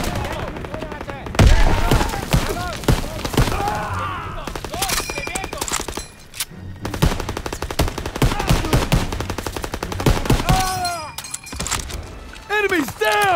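Heavy machine gun fire rattles in rapid, loud bursts during a World War II D-Day beach invasion in Call of Duty, with explosions, whistling effects and shouted voices mixed in.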